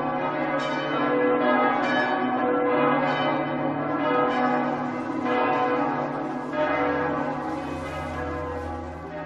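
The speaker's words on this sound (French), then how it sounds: "toutes les cloches du temple englouti se mirent à sonner" Bells of a sunken temple ring in a rich, sustained peal, with repeated overlapping strikes that swell and decay across the whole stretch, loud and unaccompanied by speech.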